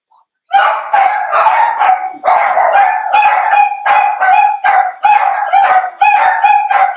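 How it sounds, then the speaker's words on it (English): Several Pomeranian dogs yap in rapid, high-pitched bursts, loud and close, barking almost continuously with short pauses between runs. "They'll be barking more in just a minute because the Pomeranians are."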